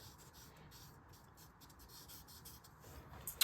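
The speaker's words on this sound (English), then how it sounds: "So just going to try to keep rounding out this drawing." Charcoal drawn across paper makes soft, continuous scratchy strokes in a quiet room, close and faint, with light rhythmic rubbing and a small tap near the end.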